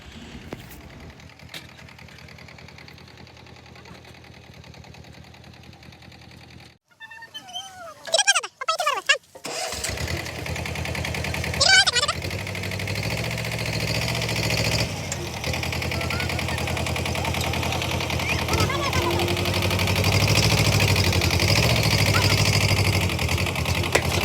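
A tractor engine running in onion fields, first a steady idling rumble, then after a brief break a louder, rougher engine drone that continues close by with a few knocks and bangs.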